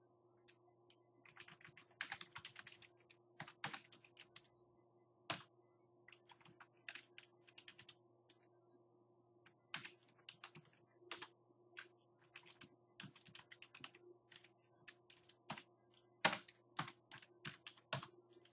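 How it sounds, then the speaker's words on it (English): Typing on a computer keyboard in irregular bursts of quick, crisp key clicks with short pauses between them, close to the listener over a faint steady hum. "So I'm just going to quickly type this."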